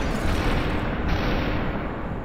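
Gunfire in the video game Superhot, a dense loud burst of shots and impacts blurring into one continuous roar over about two seconds, with no voices.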